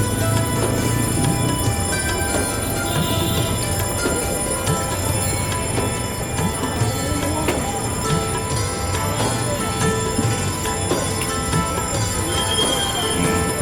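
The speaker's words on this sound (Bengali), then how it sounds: "চিটাং ইউনিভার্সিটি থেকে বিকালবেলা আসছে ট্রেন" A shuttle train coming from a university rolls past a busy rail crossing, its steady loud rumble and clatter filling the whole stretch with a faint bell-like ring above it.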